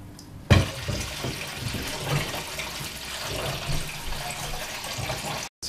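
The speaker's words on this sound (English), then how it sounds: "So I've rinsed out the bleach." Water runs steadily from a tap, rinsing bleach out of Super 8 film during home reversal processing, a constant close splashing rush with a brief break near the end.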